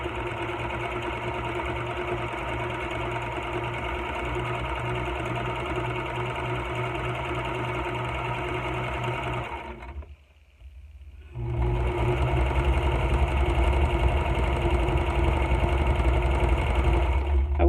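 A sewing machine top-stitching with twin needles runs as a loud, steady, close mechanical whir, halts briefly for about a second, then starts again at full speed.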